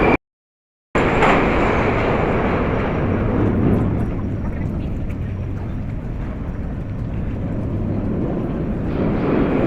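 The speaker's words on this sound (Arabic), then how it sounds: "ايه رأيك في المترو؟" Steady, loud rumble and roar inside a moving Line 5 metro subway train, continuous after a brief silent gap at the start, with no one speaking.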